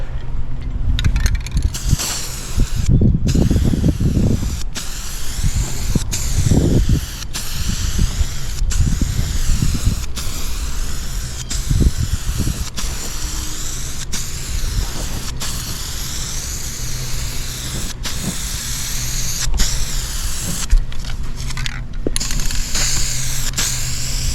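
Rust-Oleum Hunter Green spray paint hisses from an aerosol can outdoors in the wind, a continuous broadband spray broken by short pauses, with some wind rumble underneath.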